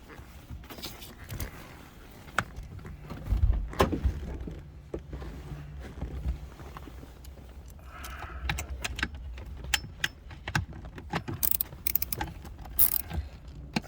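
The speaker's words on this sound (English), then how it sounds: "1/4" ratchet is working" Small clicks and rattles come from a quarter-inch drive ratchet with a long extension, used during a fuel pressure test on a Chevrolet Astro van. The bursts are irregular, mixed with tool handling, with no speech.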